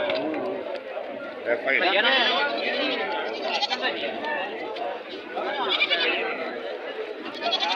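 Young goat kids bleat repeatedly at an open-air livestock market in Gandasi, their cries mixed into constant crowd chatter and people talking nearby.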